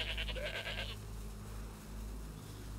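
A goat in the DayZ Namalsk game gives a short series of shaky, nasal bleats at the start, then quiet ambient hum follows.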